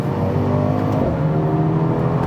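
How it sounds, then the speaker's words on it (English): A 2021 Mercedes-AMG GLB 35 at full throttle delivers a loud, steady roar of exhaust and induction noise, a sustained rising engine drone close by with no talk. "there's quite a bit of noise that comes from that exhaust, and you get a lot of induction noise as well"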